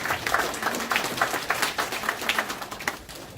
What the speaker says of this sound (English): You gotta give these guys a big applause